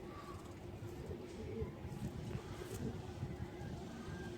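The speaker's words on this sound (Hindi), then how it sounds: "ये किसी का लगा हुआ कबूतर है।" A captured pigeon coos softly, low rounded calls sitting faintly beneath steady wind and outdoor background noise.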